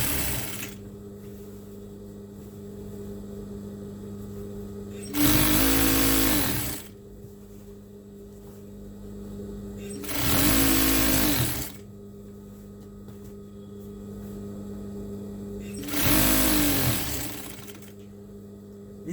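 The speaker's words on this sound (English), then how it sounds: "so I have to sew this fabric and I slope down" Sewing machine stitching tablecloth fabric at a corner, heard in three loud bursts of rapid whirring stitching of about a second and a half each, separated by quieter pauses over a steady motor hum.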